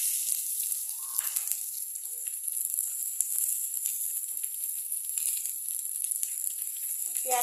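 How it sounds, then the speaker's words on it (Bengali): Chopped onion sizzles and fries in hot oil in a pan while chana dal is being cooked, a steady close hiss running throughout with a few crackles and the light clatter of stirring. "পেঁয়াজ কুচি দিয়ে আমি এটাকে ভালো করে নাড়বো"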